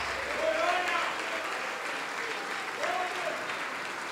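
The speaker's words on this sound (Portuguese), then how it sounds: "Vamos aplaudir mais, vamos aplaudir mais" A church congregation applauds in a sustained wash of clapping, while a voice speaks over it with drawn-out phrases near the start and again later.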